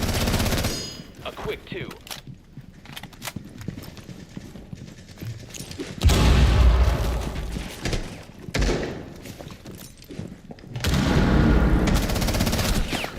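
Automatic gunfire from a Rainbow Six Siege match, with recoil, comes in loud dense bursts amid thuds and game noise, while a voice speaks briefly.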